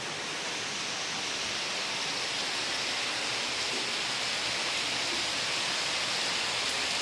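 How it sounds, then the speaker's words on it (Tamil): Heavy rain driven by strong wind during a red-alert storm roars as a dense, unbroken rushing hiss. It is loud and steady throughout, with no voices. "ரொம்ப நாள் கழிச்சு இப்போ இந்த மழையை பார்க்குறேன்"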